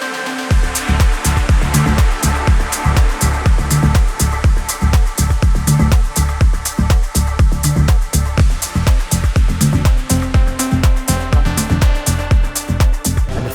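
Higher-energy daytime progressive house track playing loud and steady, with a driving four-on-the-floor kick, rolling bass pulses and bright layered synths throughout, no voices.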